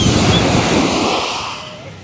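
Ocean surf washes onto the beach at Playa Flamingos, Mexico, a steady broad rush of waves with wind over the microphone, fading slightly toward the end.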